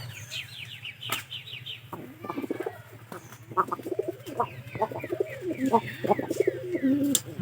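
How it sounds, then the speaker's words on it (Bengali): Soft, repeated pigeon cooing close by, mixed with brief chirps from other birds and a low steady hum beneath. "আর যেটা ডাকতেছে ওটা হলো পায়রা"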